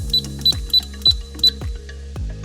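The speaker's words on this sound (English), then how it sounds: "So you hold it, hear the 2 beeps, then you put in your code" Passlock safe keypad giving five short, evenly spaced electronic beeps, each paired with a soft button press, close and clear with no talk.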